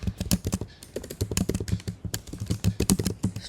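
Rapid, close keystrokes clatter on a computer keyboard as code is typed, in uneven bursts of clicks with brief pauses.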